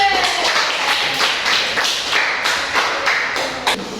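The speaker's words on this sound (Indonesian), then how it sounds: "Berikan tepuk tangan untuk kelompok 2" A classroom group claps for fellow students, sparse and uneven hand claps and taps from a small crowd in a room, fairly close, with a few sharper individual claps standing out.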